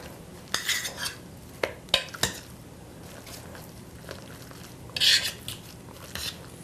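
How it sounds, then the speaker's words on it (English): Potatoes with whole garlic cloves are mashed by hand in a pot, heard as close, irregular metallic knocks and soft squishing scrapes in scattered bursts, with no talk. "if you want to make sure to really break up that garlic, then just keep mashing it"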